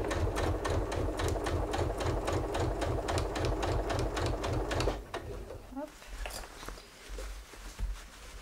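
A sewing machine with a walking foot (double-feed foot) stitches fabric for a pouch, its steady rapid mechanical stitching running for about five seconds before stopping, followed by quieter handling noises.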